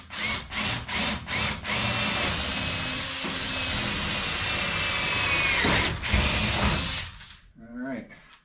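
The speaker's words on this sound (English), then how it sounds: "Alright, so I'm drilling out here on the edge." A power drill bores through the edge of a cooktop opening in a semi tiny home build, with short bursts at first and then one long, loud, steady grinding run that stops abruptly, followed by brief speech.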